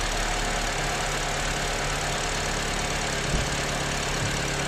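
A car engine runs during an alternator charging check, giving a steady, loud, dense mechanical drone that holds even throughout with no clear rise in revs and no talking.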